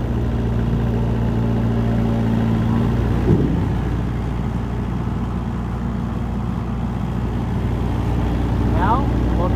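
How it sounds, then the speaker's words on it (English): The blower of a Chinook 800,000 BTU indirect fired heater runs as a loud, steady mechanical drone with a low hum, a brief clunk partway through and a rising whine near the end. "Start the blower."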